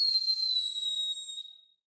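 A beatboxer's loud, piercing mouth whistle, a single steady high tone with an overtone held for about a second and a half before it fades away, alone without talk.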